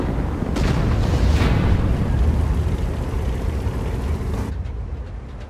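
A tank cannon fires in World of Tanks, a loud booming blast that rumbles and decays for several seconds before cutting off abruptly, with no talk.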